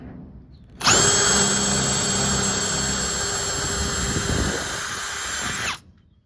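Power drill boring a hole through a trailer body for a dome light, a loud, close, high whine that starts abruptly, holds steady for about five seconds, then stops.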